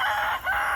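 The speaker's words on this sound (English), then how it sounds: "Get some extra nutrition to these chickens." Chickens in a backyard garden making a short, loud crowing or drawn-out squawking call, with a brief dip in the middle.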